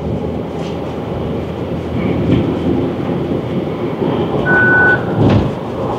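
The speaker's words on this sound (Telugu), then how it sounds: "120 పైన పోతే బీప్ వచ్చింది ఒకసారి అంతే." Inside a car moving above 120, one short overspeed warning beep sounds faintly over the steady road and engine rumble.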